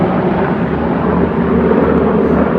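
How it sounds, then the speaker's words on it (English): Army helicopter passing overhead and partly hidden by trees: a loud, continuous, rumbling engine roar that stays close and steady from start to finish, with no talking. "Oh, it's an army chopper."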